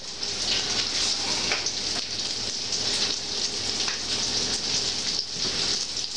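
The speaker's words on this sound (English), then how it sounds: "Mac and cheese is ready to be drained." Cooked mac and cheese pasta water pouring out through a drain, a steady loud splashing rush that continues without a break and without voices.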